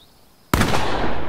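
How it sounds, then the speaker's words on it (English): A single loud cannon blast fired in the horror game The Quarry, erupting abruptly after a quiet moment and sustaining a broad, roaring boom that fills the rest of the moment. "Just shut up and shoot, Jacob."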